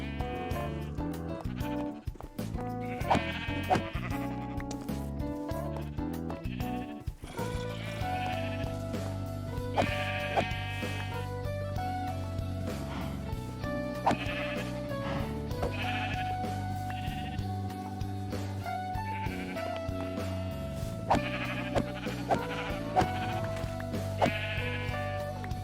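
Sheep in the Minecraft video game bleat repeatedly in short wavering calls, several animals overlapping over a steady bed of game background music.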